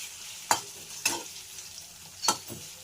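Boiled, cut potato is stirred into green chillies and ground cumin frying in a pan for sabudana khichdi: four distinct scraping spoon strokes over a soft background sizzle, no voices.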